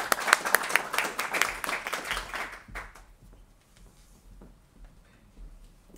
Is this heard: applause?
yes